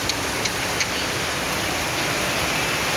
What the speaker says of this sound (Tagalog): Napakalakas ng ulan, magdamag.